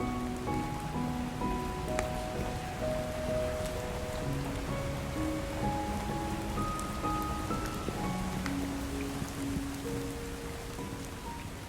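In a video game, heavy rain falls through a windy night, a steady dense hiss of drops that continues throughout, joined by faint soft musical tones and no voices.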